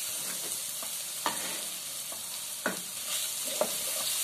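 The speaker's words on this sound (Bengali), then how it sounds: "দেখুন মশলাটা প্রায় কষানো হয়ে গেছে" Spice paste sizzles steadily in a hot pan while a spoon stirs and scrapes it, with a few sharper clinks and scrapes standing out over the constant frying hiss; no talking.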